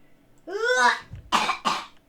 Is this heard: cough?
yes